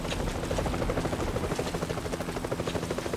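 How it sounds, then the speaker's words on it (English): A helicopter's rotor thumps steadily and loudly throughout in the PC game Vietcong (2003), a rapid chopping pulse over a low engine rumble, with no voices. "Chopper is coming over."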